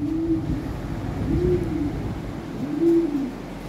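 Sirazi blue bar pigeons cooing, three low rolling coos spaced about a second and a half apart, close and fairly loud over a soft background hum.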